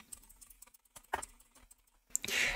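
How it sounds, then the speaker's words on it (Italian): A search typed on a computer keyboard gives quick, uneven key taps close by, in short bursts with pauses, ending in a louder clattering flurry. "nel motore di ricerca digiteremo Gentiluomo Digitale"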